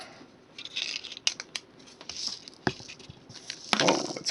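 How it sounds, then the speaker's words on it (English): Scissors snip a tag off a homemade Christmas ornament, with a few separate close cuts and a denser burst of snipping and rustling near the end, with no talking. "snip off our tag."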